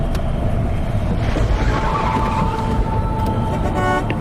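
A car travels a deserted road with forest on both sides, its engine and tyre rumble steady and fairly loud throughout, with no voices.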